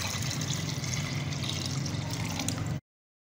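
About 2.5 litres of water pour into a cooking pot for beef rosh, a traditional Baluchi dish, making a steady close splashing trickle that stops abruptly near the end.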